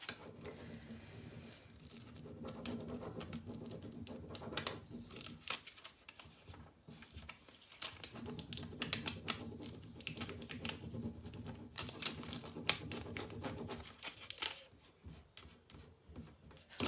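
Burnishing tool rubbed over a craft piece while peeling it, making close, continuous scratchy rubbing strokes with bursts and brief pauses.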